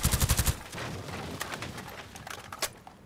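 Rapid gunfire bursts from a first-person shooter video game, a loud cluster of shots up front followed by scattered sharper single cracks and faint game ambience.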